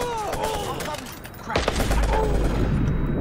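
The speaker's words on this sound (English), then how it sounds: "Then switch to the AK-47, shoot the rest of these guys" AK-47 fire in the open-world game Watch Dogs, a loud, close burst of rapid automatic gunshots that breaks in partway through over game background sound and keeps rattling to the end.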